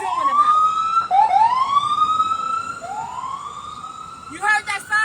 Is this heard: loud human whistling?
no